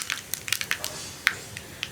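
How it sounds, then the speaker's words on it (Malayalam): Mustard seeds pop in hot coconut oil, giving sparse, sharp crackles at irregular intervals over a faint sizzle, fairly quiet and close, with no talking. "കടുക് ഒന്ന് പൊട്ടി തുടങ്ങട്ടെ."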